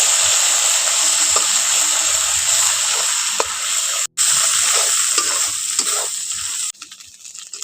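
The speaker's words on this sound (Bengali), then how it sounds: "এখন আদাটাকে একটু ভেজে নিয়েছি" Ginger paste with turmeric fries in a pan with a loud, dense, continuous sizzle, broken by a few stirring knocks and a brief cutoff, then softening toward the end.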